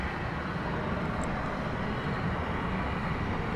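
An American airliner takes off at night at DFW Airport, its jet engines producing a steady, broad, loud roar that holds without a break from start to end.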